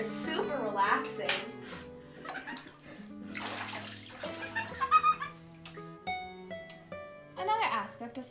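Bath water with Epsom salts and lavender essential oil moves and splashes softly in a home bathtub, close and gentle, beneath a voice talking and light music throughout.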